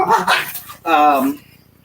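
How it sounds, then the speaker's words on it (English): A Havanese puppy yaps during playtime, giving a couple of sharp, loud, close barks and whimpers in quick succession, followed by a faint fading tail. "hey, who's yapping over here?"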